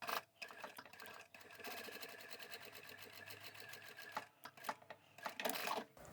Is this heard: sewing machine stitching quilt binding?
yes